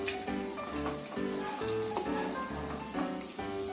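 Aloo matar bread rolls sizzle and crackle steadily as they fry in hot oil, a close, continuous sputter with small pops throughout.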